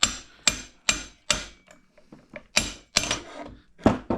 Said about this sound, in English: Usually I just lightly tap on this side with a plastic hammer.